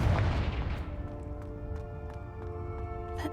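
A Confringo spell explosion in the video game Hogwarts Legacy, a heavy booming blast up front that decays into a sustained tonal rumble and ringing, with a few sharp pops scattered after.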